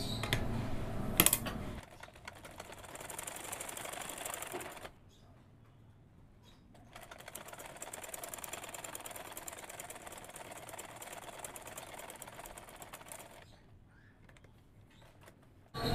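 A sewing machine stitches the side seam of a kameez in steady, fast mechanical runs, pausing briefly between bursts, close by and fairly quiet with no talk over it.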